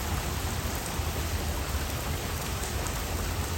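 Heavy rain pours down at Dolomite Sand beach, a loud, dense and unbroken hiss of drops with no voices over it.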